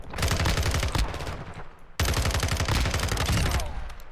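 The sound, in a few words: FSS Hurricane SMG firing in a video game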